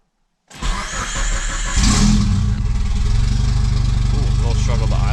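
A JDM Mitsubishi Lancer Evolution engine starts with a rough, loud rumble after years unused, then settles into a heavy, uneven, struggling idle with a raspy, throaty exhaust drone through half an exhaust, close up.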